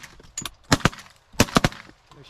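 Shotgun blasts during a duck and goose hunt in Alberta, fired at incoming specks, snow geese, pintails and mallards: two close bursts of sharp reports, each a pair of quick shots, loud against a quiet field.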